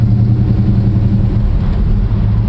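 A numbers-matching 1969 Plymouth GTX idles close by, a loud, steady, deep low-pitched rumble filling the short stretch without talk.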